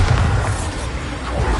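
A Bombarda spell explosion in the Hogwarts Legacy video game gives off a short, heavy, low boom with a rumbling tail.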